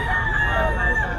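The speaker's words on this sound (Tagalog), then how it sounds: "Yun ang manok." A gamefowl stag crows, one continuous sustained call that fills the whole moment at close range amid a busy background.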